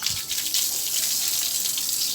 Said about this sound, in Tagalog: Lagyan natin tubig yung mga tubigan nila.